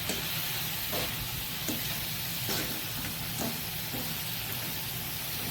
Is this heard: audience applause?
no